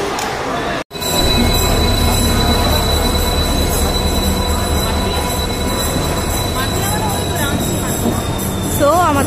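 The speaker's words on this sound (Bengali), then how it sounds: "তো আমাদের ট্রেন ঢুকে পড়েছে, ঢুকে এসেছি ট্রেনের মধ্যে, ট্রেন আমাদের চলে এসেছে।" Loud, continuous rumble of a train pulling into a platform at Howrah station, with wheel squeal and screeching rising near the end, and voices in the background.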